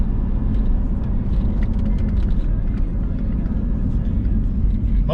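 A Ford Mustang Terminator Cobra pulls hard under acceleration, a steady, loud low engine rumble filling the whole stretch from inside the car with no talking.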